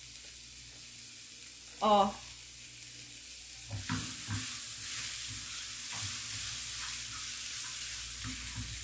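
Plenty of onion fries in a pan with a soft, steady sizzle, joined by a brief vocal exclamation early on and a few clinks and scrapes of stirring.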